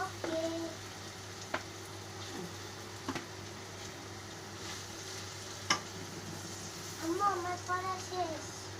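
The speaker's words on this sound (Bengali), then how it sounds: "এই যে সামান্য একটু কালি জিরা দিয়ে দিলাম" Nigella seeds sizzling in hot oil in a home kitchen, a soft steady frying hiss punctuated by scattered sharp clicks and pops, quiet, with a voice speaking briefly near the end.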